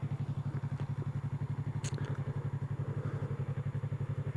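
2016 Yamaha MT-03 motorcycle idling nearby with a steady, fairly quiet low pulsing thrum and light mechanical clatter, with a brief faint click partway through and no voices.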